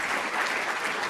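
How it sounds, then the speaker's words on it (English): Audience at a leadership forum applauding, a dense, steady burst of clapping from many hands that fills the short moment at even loudness, with no voices over it. "please join me in leading another round of applause for Mr. Gorski"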